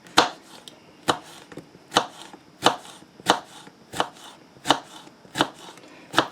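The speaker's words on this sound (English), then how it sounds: "we're just gonna cut very thin rings out of these too" A knife chops a Hatch chile pepper into thin rings with about nine crisp, evenly spaced cuts, close and distinct against a quiet background with no talking.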